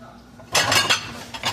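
Dishes and pots clatter and clank in a restaurant dish sink, a loud burst of metal and ceramic knocking that starts abruptly after a quiet moment and continues in uneven bursts, close by and without talk.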